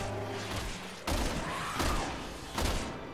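Resident Evil 6 gunfire, with three loud separate shots spaced about a second apart over a continuous low game rumble during a boss fight.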